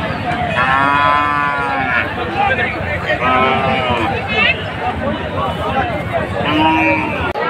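At a crowded Eid cattle market, cattle give several loud, drawn-out moos close by, three long lowing calls over a busy background of people talking and moving about.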